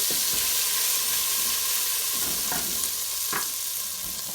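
Spoon stirring a vegan lentil patty mix with turmeric in a hot pan, a soft steady sizzle with a few faint scraping strokes, quiet and continuous.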